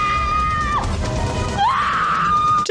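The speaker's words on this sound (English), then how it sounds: "Just screaming into the night." A scream from a movie, a sustained high tonal wail that breaks off and then rises again, loud and alone with no talk.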